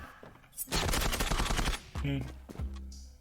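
Rapid bursts of gunfire in the online shooter Zula, a dense volley of shots up front followed by a few sharper single bangs, with voices talking over the action.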